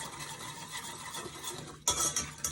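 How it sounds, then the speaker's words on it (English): Cornstarch is whisked into a creamy Parmesan sauce for Brussels sprouts, a soft continuous swishing and scraping of the whisk in the pan, growing louder with a few sharper clinks toward the end. "You want to be sure that that cornstarch gets whisked in there really nice."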